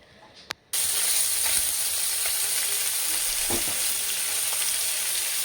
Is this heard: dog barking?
no